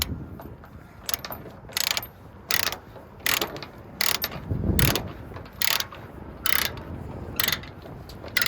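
A ratcheting chain binder is cranked to tighten load chains on a cabover truck, giving a series of sharp metallic clicking bursts, roughly one every second, close by and loud against a low background rumble.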